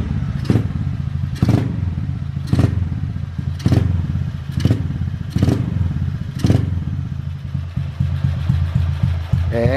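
A small motorcycle engine with a swapped carburetor, taken from a Fan model and replacing one from a 150, idles roughly and loudly up close, with a steady low drone and periodic sharp clattering knocks about once a second.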